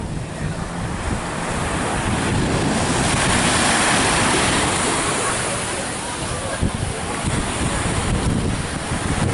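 Ocean surf rolls onto Kenting beach with a continuous loud roar that swells and eases, heavily buffeted by wind noise on the microphone, with voices faintly mixed in.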